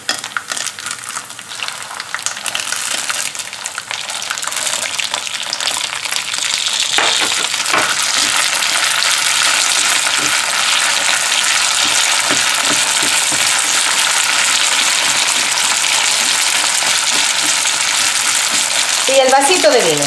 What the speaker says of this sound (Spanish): Ahora que estén doraditos los ajos, agregamos con mucho cuidado las almejas.